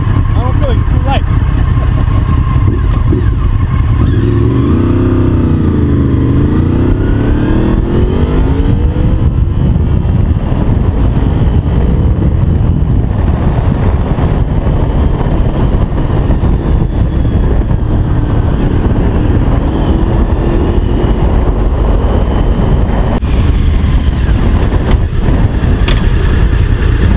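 Honda VFR800 motorcycle engine running steadily while riding, a continuous loud drone with rising and falling pitch as the rider shifts, with wind noise and people talking over it.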